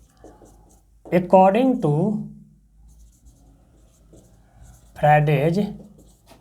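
Handwriting during a physics lecture on magnetic effects of electric current: a faint scratch of pen or chalk runs quietly underneath, while a lecturer talks in two loud bursts over it.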